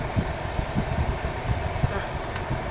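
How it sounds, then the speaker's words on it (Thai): Toyota Vios air conditioning fan blowing inside the car, a steady even whoosh filling the clip under soft low thumps, with someone speaking over it. "แอร์เย็นฉ่ำมากเลยค่ะ"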